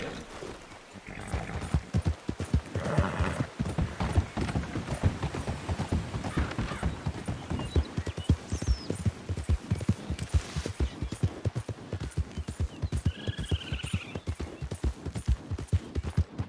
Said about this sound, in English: I could seriously just ride this horse all around the place